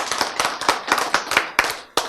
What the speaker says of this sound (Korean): 이때 박수 해야지.